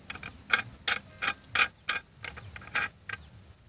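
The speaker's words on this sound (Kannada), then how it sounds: "ಈ ನಟ್ಟಿಂದ ಇಲ್ಲಿ ಟೈಟ್ ಮಾಡೋದು" A nut is tightened onto a monkey gun cracker launcher, giving about ten sharp metallic clicks in an uneven ratchet-like rhythm, close and fairly loud with no talking.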